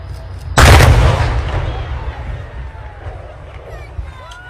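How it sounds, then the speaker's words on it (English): Controlled demolition implosion bringing down sections of a highway flyover in Austin, Texas: a single sudden loud blast with deep low rumble, then a long decaying roar of falling debris and distant crowd murmur outdoors. "they let him push the ceremonial button there to implode pieces of flyover in Austin"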